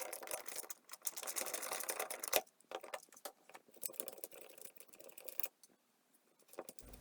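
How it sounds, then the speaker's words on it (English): Light metallic scraping and ticking as a screwdriver unscrews the screws of a single light switch face plate, close and fairly quiet, with short gaps and a near-silent stretch toward the end. "So just unscrew these anti-clockwise."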